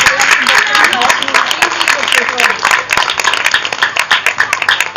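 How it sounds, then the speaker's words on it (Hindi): A church congregation claps loudly and steadily for several seconds, a dense wash of hand claps with voices mixed in throughout. "मैं चाहता हूं खुदावंद के जलाल के लिए जरा जोरदार तालियां बजाएं।"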